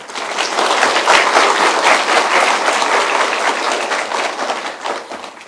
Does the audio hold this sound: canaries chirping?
no